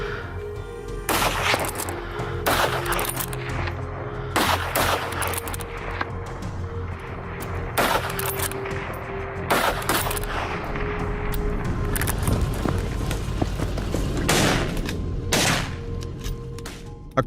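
Hunters fire at wild boars on a farm, a rapid fusillade of sharp gunshots cracking out in irregular clusters over a constant rumbling background, some reports close and loud, others softer and more distant.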